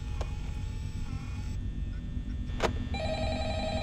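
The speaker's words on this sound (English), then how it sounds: "Or I'm gonna pick up the phone" An in-game telephone rings in Five Nights at Freddy's, its repeated electronic tones sounding over a low background hum and a couple of short clicks, fairly close and moderately loud.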